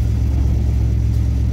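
A car engine fitted with a Thermoquad carburetor idles slightly high, a steady, low, even rumble held close and unbroken throughout.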